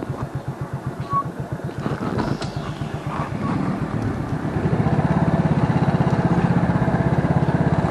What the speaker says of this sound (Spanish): la ventaja de esta motocicleta, que como es semiautomática, pues no estoy ocupando el clutch